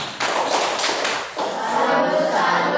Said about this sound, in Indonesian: mari kita berikan tepuk salut untuk kelompok 2